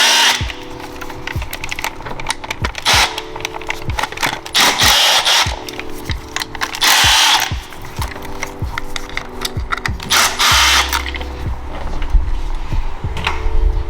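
An electric power tool zaps out the ignition coil hold-down bolts on a B58 engine one by one, starting at cylinder 1. Repeated short whirring bursts and ratcheting clicks ring out close and loud, each separated by brief handling noises.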